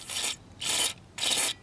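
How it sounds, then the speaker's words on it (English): Brake cleaner sprayed into the carburetor of a green 6 hp Craftsman self-propelled lawn mower, three close, loud hissing bursts of aerosol spray with short pauses between them. "I'm putting the brake"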